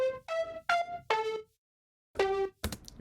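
A bright electronic synth lead made by a sound designer for a pop track plays a few clipped, harmonically rich notes with a pause in the middle, clean and alone.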